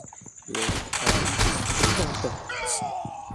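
Gunfire in the mobile battle game BGMI, a close burst of rapid shots and impacts lasting a couple of seconds, with players talking over it.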